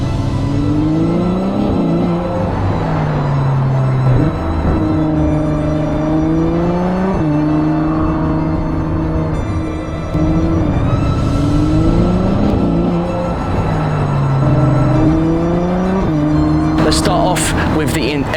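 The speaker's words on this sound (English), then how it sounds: "812 Ferrari Superfast." A Ferrari 812 Superfast engine rumbles steadily, its pitch rising and falling through repeated rev sweeps, loud and close throughout.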